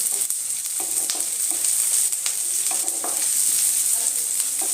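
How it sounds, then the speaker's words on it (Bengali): Chopped onions fry in a pan for a Bengali katla fish curry, a steady close sizzle with intermittent scraping taps of stirring throughout. "পেঁয়াজটা একটুখানি ভাজা ভাজা হয়ে আসছে"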